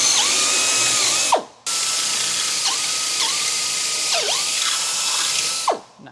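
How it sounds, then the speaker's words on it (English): A drill grabs and chatters as it cuts the threads out of bolt holes on a Goldwing motorcycle trike, making a rough ratcheting whir in bursts, with a sudden stop and restart and a whining spin-down at the end. "we're just going to drill the threads out of these two bolt holes"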